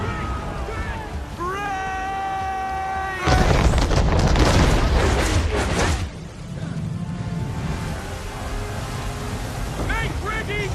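Ship cannons boom in an Assassin's Creed 3 naval battle, a heavy broadside rumbling for a few seconds after calls shouted over wind and sea, then fading back to rushing water and more voices.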